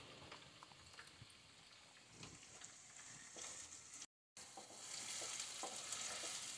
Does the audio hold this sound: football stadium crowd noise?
no